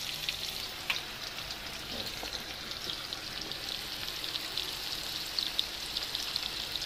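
Fish frying in oil, a continuous crackling sizzle at moderate level with occasional sharper pops and small clinks, steady for several seconds.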